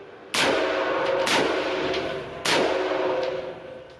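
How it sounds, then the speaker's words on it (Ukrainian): Two loud gunshots ring out close by during forensic test firing of a weapon, each a sharp crack followed by a ringing echo that decays over about a second. "Постріл."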